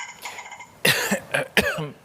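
A few sharp, close coughs from a man alone in a broadcast studio during a live health interview, in quick succession with brief gaps between bursts, heard clearly with no talk over them.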